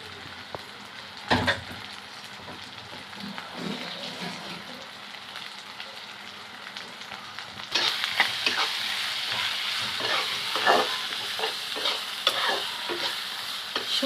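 Green chilies and chopped tomato sizzle and fry in a pan for a Bangladeshi lote shutki bhuna, with steady crackling and scraping stirs that grow louder and busier partway through, no voices present.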